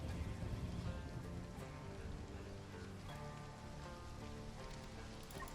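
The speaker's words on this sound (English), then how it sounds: "It's raining." Rain falls steadily in the survival video game Stranded: Alien Dawn, a constant patter of drops on surfaces that holds level throughout, alone with no voices.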